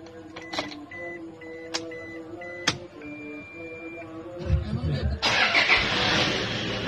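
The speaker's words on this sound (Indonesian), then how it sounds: "Nah, itu suara dieselnya." A diesel Toyota Fortuner second-generation TRD Sportivo with automatic transmission cranks and fires up from inside the cabin after a series of dashboard chimes, settling into a loud, steady idle rumble.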